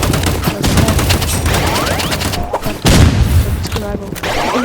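RPG blasts and rapid gunfire in the online shooter game Rivals, loud dense bursts of shots and booms overlapping throughout, with a voice talking over the action.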